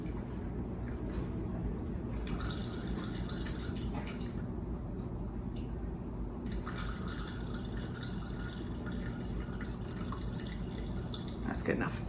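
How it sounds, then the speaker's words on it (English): Lemon juice poured through a strainer into a drink, a soft steady trickle and drip running close by under a continuous low background, with a brief splashy burst near the end. "I'm gonna add about half of the lemon juice, but I'm going to strain it so it doesn't get the seeds."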